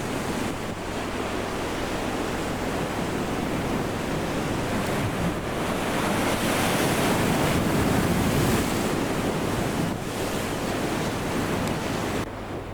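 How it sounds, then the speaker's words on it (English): Waves break continuously on the Clarence River bar, a broad, steady roar of surf with wind rush and no voices. "That breaking water there, sort of to the left of the U-shaped bar"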